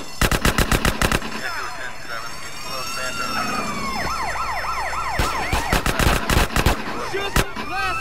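Bursts of rapid automatic gunfire in GTA San Andreas, loud clusters of shots at the start and again near the end, with wailing sirens rising and falling in between.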